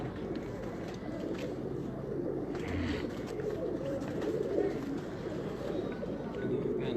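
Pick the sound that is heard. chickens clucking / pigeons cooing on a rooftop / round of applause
pigeons cooing on a rooftop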